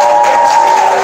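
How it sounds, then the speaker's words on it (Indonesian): Audience applause, a dense, loud, steady wash of clapping from a crowd filling the whole moment without a break. "Tuh, jarang dapat tepukan aplaus kayak gitu."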